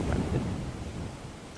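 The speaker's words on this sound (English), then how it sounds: "Holy cow, is it windy." Strong wind blowing outdoors during a phone gimbal test, a steady, loud rumbling roar buffeting the microphone with no voices.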